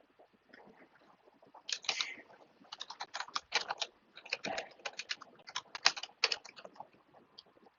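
Fingers type a password on a computer keyboard in quick, uneven bursts of close, crisp key clicks, with short pauses between runs and no talking.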